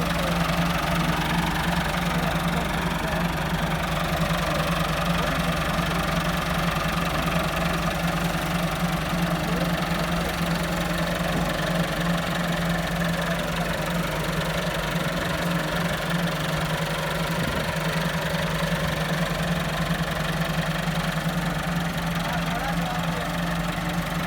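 A Massey Ferguson 375 tractor engine runs steadily throughout with a constant low drone and a knocking diesel texture, loud and close, and faint voices are audible under it.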